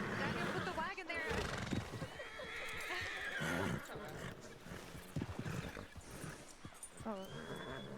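Horse in a western roleplay video game whinnies amid clip-clop hooves and shifting ambient noise, with people talking over it.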